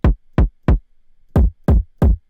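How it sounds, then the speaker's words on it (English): Six deep kick drum hits play one after another, each a short punchy thump with a quick decay, the last three sounding slightly brighter. "I listen to all of the kicks first by left clicking on each of the sounds like this."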